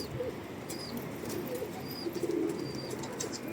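Faint low cooing from young, newly fledged pigeons in a loft, with scattered soft chirps and light rustling in the background.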